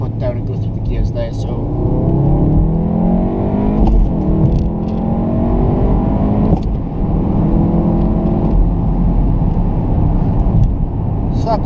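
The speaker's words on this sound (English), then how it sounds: "what I'll do is I'll put my foot down and go through the gears there" Hard acceleration through the gears in a 2015 VW Golf R Mk7 or 2017 facelift Audi S3 8V, the engine note climbing loudly then dropping at each shift, heard from the cabin with someone talking over it.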